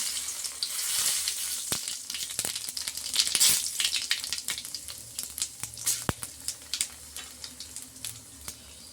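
Cumin seeds crackle and sizzle in hot oil for a potato stir-fry, a quiet burst of fine pops and spitting that gradually thins out, heard close with no voices.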